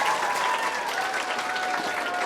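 An audience at an Isra Mi'raj sermon in an Islamic boarding school claps continuously, a dense, even wash of many hands heard up close from start to finish.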